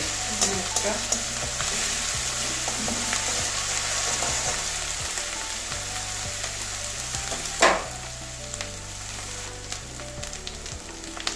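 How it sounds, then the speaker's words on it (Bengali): Whole garam masala of two cloves, two cinnamon sticks and two cardamom pods sizzles steadily in hot oil with fried onions for a Bengali katla fish curry, a close, continuous frying hiss with one sharp pop near the end. "এবারে গোটা গরম মশলা দিয়ে দিচ্ছি।"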